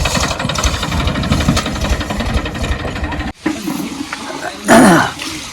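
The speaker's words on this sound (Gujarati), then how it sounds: "ટ્રેક્ટર હેડ્યું મિત્રો ઘેર" A tractor loaded with cotton drives along, its engine a steady rumbling roar that continues for several seconds, cuts out briefly, then returns with a louder burst near the end.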